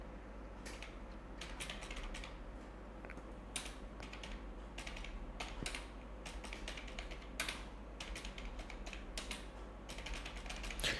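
Names are typed on a computer keyboard during a computer class. The keystrokes click and tap in quick irregular runs with short pauses, close and fairly quiet, over a faint steady hum.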